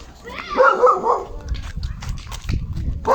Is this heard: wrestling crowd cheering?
no